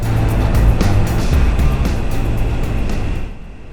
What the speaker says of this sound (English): the Wallace Tunnel is deafening on a motorcycle